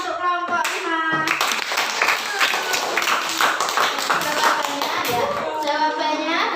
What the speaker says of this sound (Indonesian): Oke, beri tepuk tangan untuk kelompok 5.